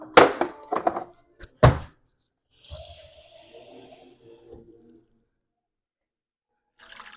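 A few heavy thunks come first as frozen ground chuck goes into a pan. Then a short hissing splash of water is poured over the meat, followed by faint sizzling and quiet.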